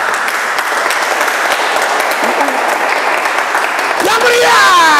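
Crowd cheering and applause from a congregation at a church worship service, loud sustained clapping and shouting that swell toward the end, with a voice rising above the crowd.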